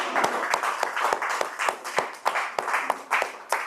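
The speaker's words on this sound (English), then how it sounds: "May I request everyone to please give another round of applause for Toastmaster Chavi." A small audience at a Toastmasters club meeting claps, each clap crisp and distinct, the applause fairly steady and moderately loud.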